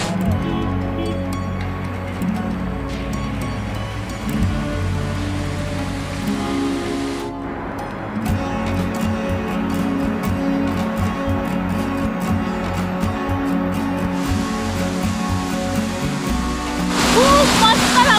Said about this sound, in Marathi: कम्प्लिटली असा पायऱ्यांवरून कोसळणारा धबधबा असा वाटतोय